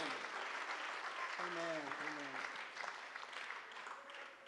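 A church congregation claps at a Sunday service, a continuous, moderately quiet swell of applause with a voice briefly heard over it.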